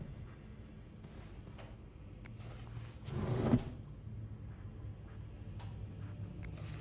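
A drawer slides open or shut in the video game This Bed We Made, a single close wooden scrape and thud rising briefly over a quiet room tone, with faint ticks around it.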